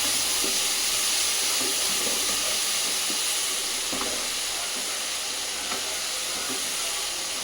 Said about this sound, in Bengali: এই দিকটা একটু মশলাটা কষাই।